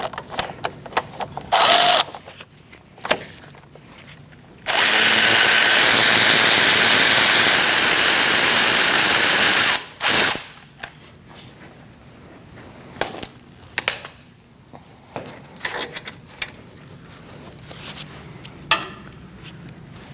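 Impact wrench or drill on the wheel hub bolts of a 2016-2019 Chevrolet Cruze during a front bearing and hub job, with a loud continuous whirring run of about five seconds plus shorter bursts before and after it, up close in a garage.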